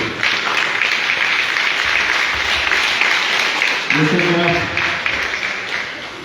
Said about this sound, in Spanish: Párense y démosles un aplauso del barrio del centro de Jocoaitique